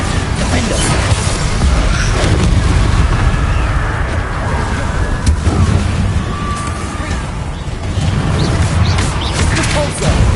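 Bombarda explosion spells in Hogwarts Legacy go off amid loud, continuous combat, with booming blasts, crashing debris and rumbling effects layered over a dense game soundscape.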